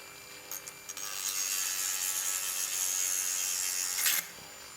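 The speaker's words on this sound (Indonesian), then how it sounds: "Di speed 5000 rpm." A Proxxon FBS240/E rotary tool spinning at 5000 rpm gives a steady, close, high-pitched grinding hiss. It comes in after a few light clicks, holds for about three seconds and ends with a short louder burst. No one speaks.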